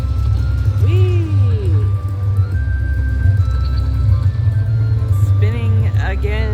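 A Lucky Ladies slot machine at The Plaza Las Vegas plays bonus-spin chimes and warbling melody tones over a loud, steady casino hum, with voices talking nearby.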